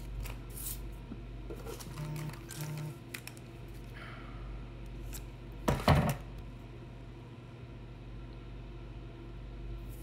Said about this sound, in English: a pair of scissors so you can cut your bags